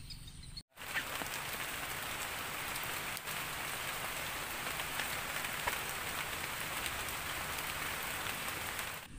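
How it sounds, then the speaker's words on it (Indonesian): Heavy rain pours steadily in a forest, a dense, continuous hiss of drops on surfaces that is loud and unbroken, after a brief dropout at the start, with no voices. "Hujan makin deras"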